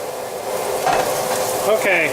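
Garlic and mushroom stems cook in oil with salt and pepper in a pan, giving a steady close sizzle with faint stirring scrapes throughout.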